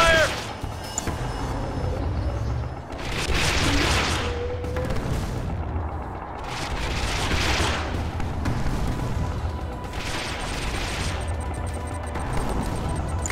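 Volleys of weapons fire and booming blasts in a Command & Conquer 3: Kane's Wrath battle, loud repeated bursts across the whole stretch with game unit voice lines in between.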